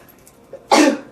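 A single short, explosive burst of breath, loud and close, with a faint intake just before it.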